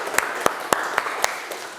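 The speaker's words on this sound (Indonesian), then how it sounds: "Tepuk tangan untuk kita semuanya." A few slow, evenly spaced hand claps, about six sharp beats spread over two seconds, sounding thin and close, from a small group of students at the end of a university teaching session.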